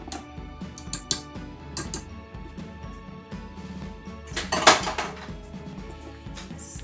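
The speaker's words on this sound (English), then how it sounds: "And we're going to just stir that into this mixture." A spoon stirs flour, baking powder, ground cinnamon and salt into cookie mixture in a bowl, giving close, irregular clinks and scrapes against the bowl with a louder clatter near the end, with no talking.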